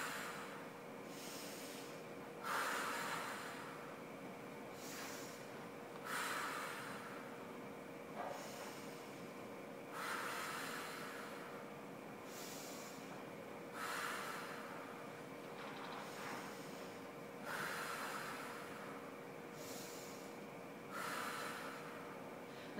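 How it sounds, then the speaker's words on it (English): Slow, deliberate breaths during a Pilates exercise, each inhale and exhale rising as a soft whooshing swell every few seconds, faint and close, over a low steady background hum. "Inhale here and exhale."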